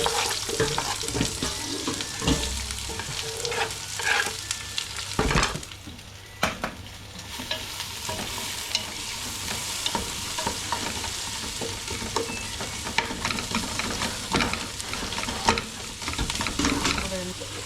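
Onions fry in a pan with a continuous crackling sizzle as a spoon stirs and scrapes against the metal, producing repeated clicks and knocks, close and steady throughout.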